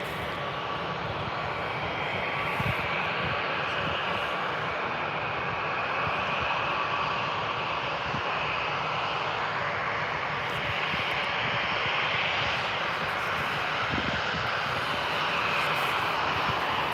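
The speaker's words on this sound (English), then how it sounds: "your Vueling A320 starts to line up there" Vueling A320 airliner engines at Birmingham airport as it lines up for departure, a steady broad roar with a faint whine heard from a distance, continuous throughout.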